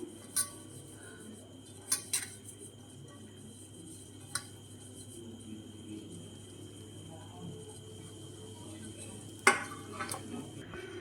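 Ghee is spread around the inside of a round pan used as a cake tin, giving faint scraping with a few light metallic clinks scattered over a low steady hum.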